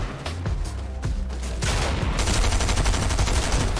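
Fortnite gunfire in a tense match: rapid bursts of shots that build into a dense, continuous fusillade in the second half, loud and close, with no voices.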